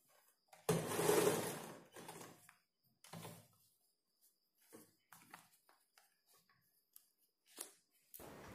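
A sewing machine stitches the puff sleeve of a blouse in short, faint bursts separated by quiet pauses, with one longer run near the start and small clicks and handling noises between.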